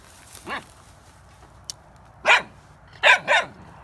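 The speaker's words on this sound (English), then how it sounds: "This dog don't like quit barking." A dog barks four times in short, sharp bursts, the last two close together, with quiet pauses between and no talking.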